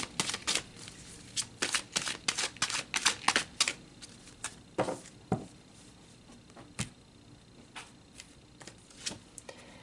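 Tarot cards being shuffled, a close, quiet run of papery riffles and flicks in uneven bursts, busier at first and thinning out toward the end, with no talk.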